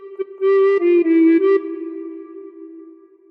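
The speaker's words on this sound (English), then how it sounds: "practice this until you end up with something that sounds like this" Recorder playing an opening phrase of the Battle Hymn of the Republic: a few clear, breathy sustained notes tongued in a short rhythm, fairly loud and close, the last tone fading out alone.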